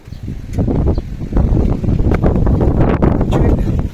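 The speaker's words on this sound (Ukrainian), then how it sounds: "Телефон, вітер просто здуває." Strong wind buffets the microphone in rough, rumbling gusts that continue throughout, with faint rustling underneath.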